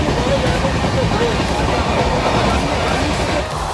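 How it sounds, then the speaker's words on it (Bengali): The Padatik Express, an overnight train from Kolkata, rumbles steadily along the track. The noise is a constant low roar with faint clatter, and voices murmur over it inside the carriage. "আমরা যাচ্ছি হলো পদাতিক এক্সপ্রেসে"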